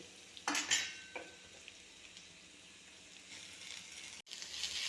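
Spinach and onion stir-frying in oil with mustard seeds in a pan, a quiet sizzle broken by a few scraping stirs early on, a brief dropout near the end, then the frying picks back up.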